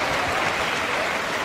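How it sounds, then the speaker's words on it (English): Steady, dense applause from a large indoor crowd at the Crufts 2018 dog agility team final, a continuous hissing wash of clapping with no distinct individual claps. "I think that deserves a round of applause"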